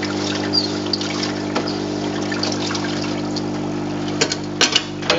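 Tap water runs steadily into a sink to rinse a freshly etched printed circuit board, a continuous trickling wash with a low pump-like hum underneath and a few sharper splashes near the end.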